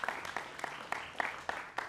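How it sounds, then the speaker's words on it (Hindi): Applause welcoming journalist guests to a panel discussion before a live audience, a modest cluster of people clapping in rough, uneven bursts, fairly close and moderately loud with no talk over it. "तालियों से इनका भी स्वागत कीजिए"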